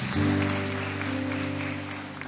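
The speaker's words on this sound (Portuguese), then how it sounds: "aplaudir bem forte Jesus, bem forte, bem forte" A church congregation at an evening celebration service claps for Jesus, a fairly soft crackle of many hands spread over sustained keyboard chords that ring underneath.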